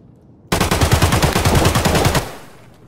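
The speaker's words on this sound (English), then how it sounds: "Of course he fucking starts shooting them" A sustained burst of automatic gunfire in Escape From Tarkov, rapid evenly spaced shots lasting under two seconds and then tailing off into a fading echo, close and loud after a near-silent start.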